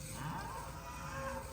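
An old Mashona cow lows on a farm, a steady continuous moo with a faint harmonic tone, close and fairly quiet, with no talking.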